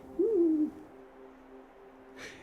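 A great grey owl in a deep-snow winter forest gives one low, soft hoot that slides slightly in pitch, followed by a quiet, still stretch with faint background hiss.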